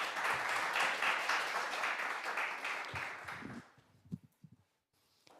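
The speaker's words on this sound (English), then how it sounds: "Please give him a big applause." A burst of crowd applause, dense and steady, then thinning into a few scattered claps and footsteps before fading out.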